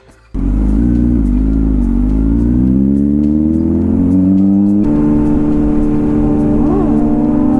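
A Kawasaki Z900 motorcycle pulls a wheelie in front of police, its engine bursting in loud and revving up in a long rising whine, then a sharper throttle change and continued high-pitched roar, with no talk.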